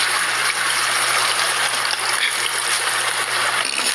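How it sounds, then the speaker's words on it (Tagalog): Water of a stream flowing steadily, a continuous bright rushing wash with no pauses, loud and close. "May narinig na akong tubig, agos ng tubig."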